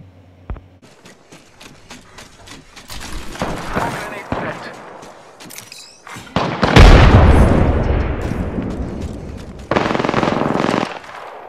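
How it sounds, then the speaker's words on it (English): Rapid automatic gunfire and booming explosions fill a battle royale video game match. The bursts are loud and close, grow denser and heavier as the firefight goes on, and keep coming almost without a break. "Opening fire on the enemy."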